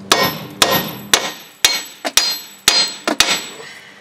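Hammer striking a Mazda 3 front strut assembly, about eight sharp metallic blows in an uneven rhythm, each ringing briefly, loud and close with no talk.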